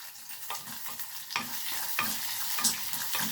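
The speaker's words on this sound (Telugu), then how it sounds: "కరివేపాకు ఉల్లిపాయ ముక్కలు పచ్చిమిర్చి అల్లం వేసుకొని వేయించుకోండి" Curry leaves, sliced onion, green chilli and ginger frying in hot oil with mustard seeds and dried red chilli, a steady close sizzle broken by several stirring scrapes at regular intervals, with no voices.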